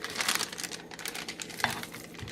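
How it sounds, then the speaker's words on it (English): A plastic bag crinkling and rustling up close as truffle mixture is spooned in, steady busy crackle with no talk. "So now I'm gonna have to put mine in a plastic bag."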